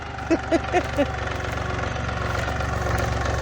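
A tractor engine idles steadily on a garden plot, a low rumbling drone with a faint rattle, while a few short tonal sounds rise briefly over it near the start.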